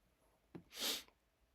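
One quick, sharp human sneeze, a brief intake followed by a breathy burst, close and fairly quiet, with no talk around it.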